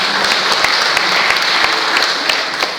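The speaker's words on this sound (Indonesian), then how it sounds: "Tepuk tangan bagi Tuhan di dalam" Congregation clapping for God during a Sunday morning service at a Pentecostal church in Pontianak, loud, dense and continuous applause close by, with no voices over it.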